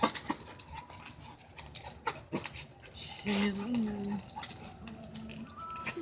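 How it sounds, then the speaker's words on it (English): Dogs play fight, giving short vocal bursts, whines and panting amid scuffling, while a person talks over the noise. "Why are you barking?"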